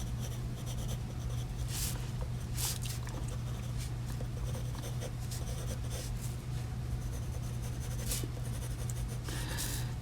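Pencil scratching and shading strokes across paper while drawing a portrait, close and steady with a few brighter scrapes, over a constant low hum.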